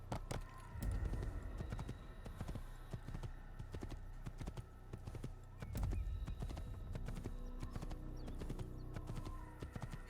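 Horse hooves clip-clop steadily in the Assassin's Creed video game, a quick uneven gallop-like rhythm with a neigh mixed in, moderately faint and continuous.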